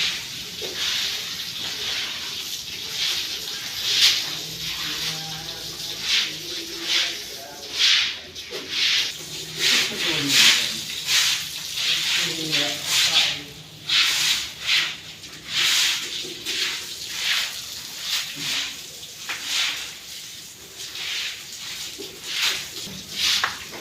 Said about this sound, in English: The remaining cow dung is cleaned with water